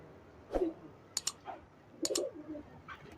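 A breeder pair of Star pigeons cooing up close, a few short soft coos spaced across a quiet moment with light clicks between them.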